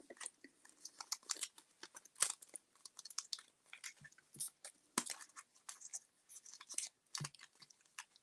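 Quiet, close scissors snip and crunch through material in quick, irregular cuts.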